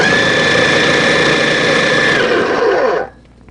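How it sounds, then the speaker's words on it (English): A food processor whirs through pie crust dry ingredients in one steady, loud motor drone lasting about three seconds, then cuts off abruptly and leaves a faint quiet tail. "For me here in the food processor, I'm going to pulse it until it's"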